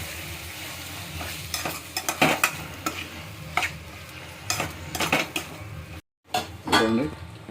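Tomatoes cook in oil in a pan, a low sizzle running underneath as a spoon stirs and scrapes in irregular bursts against the metal, with a brief silent gap near the end before a louder stir.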